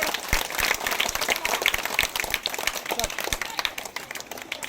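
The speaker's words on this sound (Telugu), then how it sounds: "సార్కి అందరు గట్టికి చప్పట్లు కొట్టండి." An audience breaks into sustained applause, a dense, steady patter of many hands clapping close by, with a few voices mixed into the crowd noise.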